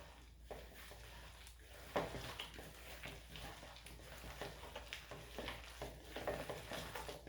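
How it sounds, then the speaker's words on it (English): Cornstarch is mixed into a batch in a bowl until creamy, giving faint, repeated scraping and swishing strokes against a quiet background hiss. "Mix that cornstarch right in there, guys."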